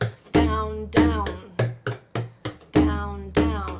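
A bodhran frame drum struck in a motor rhythm with down strokes, giving a run of close, resonant booming beats with ringing tones, some strokes louder and longer than others.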